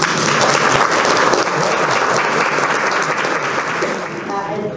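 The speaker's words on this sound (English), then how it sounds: "I know you all applauded" Sustained, dense applause from an audience after a morning presentation, loud and even throughout with no pauses.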